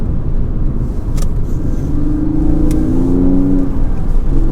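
A Porsche 996 Carrera 4S engine drones loudly and steadily from inside the cabin as the car takes a roundabout fairly quickly, with a smooth, low rumble and a slight rise in revs partway through.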